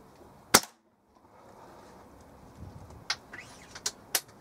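A Weihrauch HW97 spring air rifle, with a replaced spring, fires one sharp, loud, close shot, followed by a quiet stretch and several fainter clicks and knocks.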